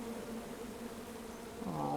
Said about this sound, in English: Tree. With a beehive. Come at me, bees!